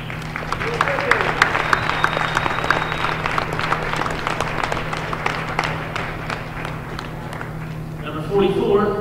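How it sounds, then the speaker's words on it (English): A crowd in a high school gym applauds a senior girls' basketball player at a Dayton Dunbar at East Clinton game, with sustained clapping over a steady electrical hum and a voice coming in near the end. "Give her another round of applause."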